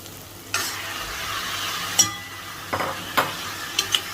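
Chicken with ginger-garlic paste sizzles steadily in a pan while a utensil scrapes and stirs it, producing several distinct clinking, scraping strokes over the constant frying hiss.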